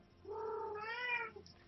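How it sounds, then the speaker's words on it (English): A pet cat meows close by, wanting to play: one drawn-out, rising-then-falling meow with a short squeak after it, with no voices and a quiet room behind. "Sorry for the cat sounds in the meantime"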